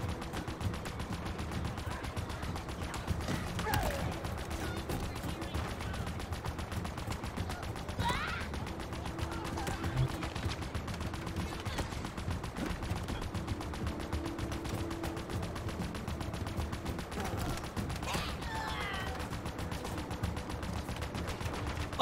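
Big explosions and gunfire in Halo Infinite, a sustained, dense battle din of rumbling blasts and rapid shots with no letup.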